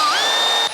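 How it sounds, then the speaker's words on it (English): Power drill spinning up with a rising whine, then holding a steady high pitch while driving a screw during assembly of an S2 Atrax kit, close and loud before cutting off abruptly. "I'm going to try and do it with the drill"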